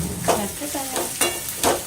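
Sliced ridge gourd frying in hot oil for pickle, with a spoon stirring through it in a few distinct scraping sweeps over a steady close sizzle.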